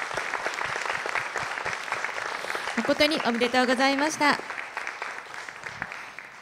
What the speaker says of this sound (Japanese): 皆様、今一度受賞された皆様に盛大な拍手をお願いいたします